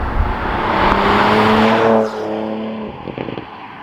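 A Porsche Macan GTS SUV (2023/24) launches hard from a standstill, its engine roaring loud and close with a rising pitch and a possible brief tyre squeal before it cuts off and fades.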